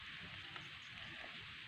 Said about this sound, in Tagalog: lumalakas ang ulan, Tots. Narinig mo?